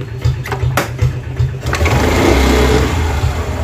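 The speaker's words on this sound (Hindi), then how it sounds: "अब लगाते हैं हम किक और गाड़ी को स्टार्ट करके दिखाते हैं आपको।" A Honda Activa scooter is kick-started: a few sharp kick strokes and clatters, then the engine catches and settles into a loud, steady idle close to the microphone.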